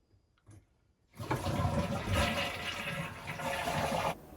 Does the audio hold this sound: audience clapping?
no